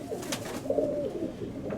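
A pink domestic pigeon in a loft gives a soft, low rolling coo nearby, with faint rustling around it.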